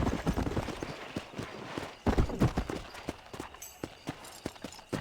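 Horse hooves clip-clop in Red Dead Redemption on PC, a steady run of hoofbeats that swells loud around the midpoint, then carries on more lightly.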